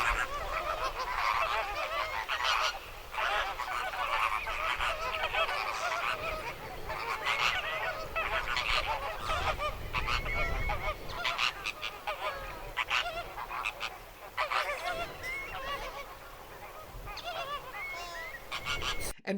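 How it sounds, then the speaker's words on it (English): A large, dense flock of flamingos keeps up a continuous loud chorus of honking, goose-like calls, many birds overlapping at once with no pauses. "Did I mention that they're noisy? Here's what they sound like."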